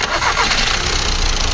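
A diesel car engine cranks and catches, settling into a mid-pitched idle right after the start, heard close and loud in a brief burst without speech.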